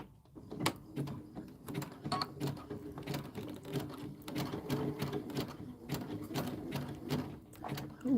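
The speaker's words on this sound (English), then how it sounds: "And then we're going to sew over that." An embroidery machine stitches steadily over a fabric-wrapped rope bowl in the hoop, a rapid close mechanical chatter with rhythmic needle clicks running throughout at moderate volume.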